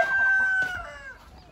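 A single chicken call rings out nearby, a drawn-out squawking cluck that trails off, with faint background noise after.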